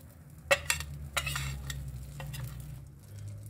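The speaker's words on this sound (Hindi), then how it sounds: "आतां आमी फ्रायींग पॅनाक बटर एड करून घेवपाचें." Butter and garlic frying in a pan, with a steady low sizzle running under a few sharp clinks and scrapes of a utensil stirring against the pan.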